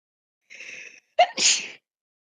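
One person sneezes with a short breathy intake and then a sharp, explosive burst, close and clear against silence.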